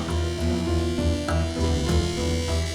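A faulty air conditioner in an office gives off a steady, loud electric buzz with a pulsing, rhythmic drone throughout.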